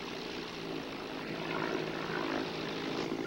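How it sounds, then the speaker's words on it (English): Propeller airplane drone passing overhead, a continuous mid-distance engine hum that swells slightly toward the end, with no talk. "That airplane's looking for us."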